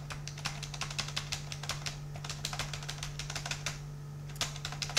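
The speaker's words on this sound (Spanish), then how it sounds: "Es para destrozar el teclado esto." Computer keys are hammered rapidly and continuously in an irregular clatter while a ZX Spectrum game is played, close and fairly loud over a steady low electrical hum, with a brief pause near the end.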